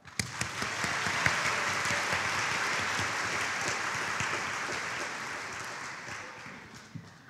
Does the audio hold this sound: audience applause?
yes